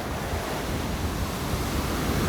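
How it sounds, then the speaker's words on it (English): Ocean surf at Huntington Beach, California, a steady, close wash of breaking waves mixed with wind rumble on the microphone, with no voices present. "And you get really good waves"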